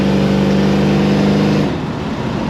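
A 1969 Dodge Charger 440 R/T restomod with Black Widow mufflers gives a loud, deep exhaust drone under load on a test drive, a steady tone that drops away as the engine eases off near the end.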